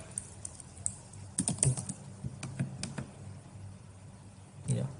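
Quiet clicking taps on a computer keyboard typing into a terminal, irregular clusters of keystrokes close by with soft background hum.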